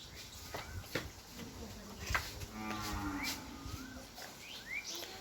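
A young cow, a heifer kept for the Eid sacrifice, gives a drawn-out moo in the middle, set against a farmyard backdrop of small birds chirping and faint voices in the distance.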